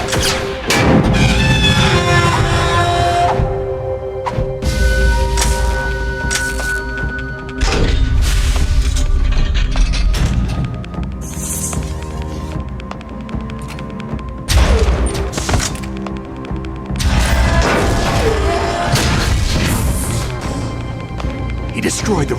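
Heavy booms and crashing impacts from a radome being destroyed in Metal Gear Solid: The Twin Snakes on GameCube, loud and repeated over several seconds, layered over a dense, steady music score.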